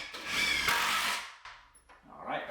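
A power drill drives a 3.5-inch screw into a wooden work table for a laser engraver in one loud whirring burst, then stops, followed by quieter handling noises and a brief final whir.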